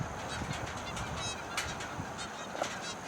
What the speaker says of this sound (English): out here in the field there's a whole flock of Canada geese